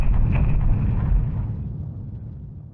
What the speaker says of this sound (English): Another explosion has occurred at Chernobyl nuclear plant